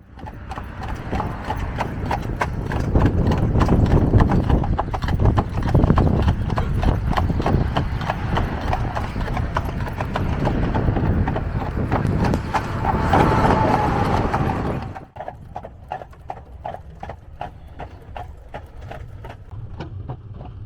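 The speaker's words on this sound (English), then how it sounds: "this is how they're going to work their ground with the horses" Horses working ground on a Mennonite farm, hooves clip-clopping in a steady rhythm close by, with harness and equipment clatter and an occasional whinny; the sound grows quieter for the last few seconds.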